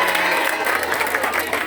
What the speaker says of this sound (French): Sous vos acclamations, bien sûr, veuillez accueillir Célia Bassé.